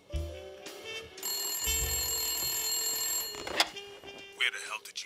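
A telephone rings inside the video game Blacksad: Under the Skin, its sustained bell tone lasting a couple of seconds at moderate volume over game ambience and music, with speech-like sounds mixed in around it.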